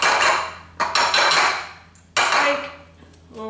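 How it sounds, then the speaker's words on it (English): Spoon scraping cooked buckwheat out of a metal sieve or colander into a bowl, several loud rattling metallic scrapes in separate bursts, close up with no talking. "remove all of the buckwheat in the sieve, in the colander"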